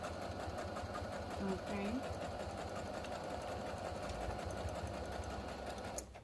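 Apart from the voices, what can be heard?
sewing machine stitching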